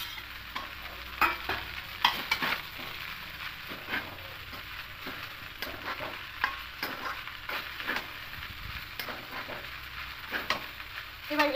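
Pasta and scrambled egg are stirred in a frying pan, with a soft continuous sizzle and repeated scraping strokes of a utensil at an uneven rhythm, close by, with no voices.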